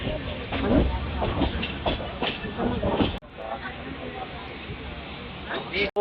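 The Sachkhand Express rolls along the rails with a continuous rumble and soft rhythmic clatter, louder at first and then easing; a voice talks over the train noise throughout the first half.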